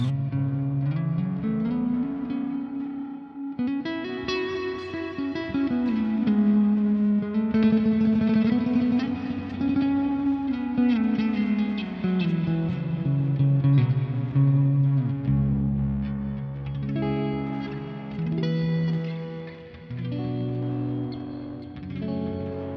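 Post-rock electric guitar played through a Headrush unit with a K-drive pedal, tape saturation and reverb, sustaining washed, gliding chords and swelling notes that ring out continuously with long reverberant tails.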